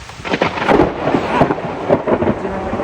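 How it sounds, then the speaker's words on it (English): Thunder from a lightning strike a couple hundred yards away rolls and rumbles loudly in close, irregular surges, heard alone without voices. "out of nowhere a lightning strike just hit, I don't know, a couple hundred yards away from me"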